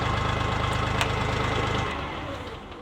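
The diesel engine of a Kentavr 244SX tractor idles steadily close by, with a low, even chugging pulse throughout that eases slightly toward the end.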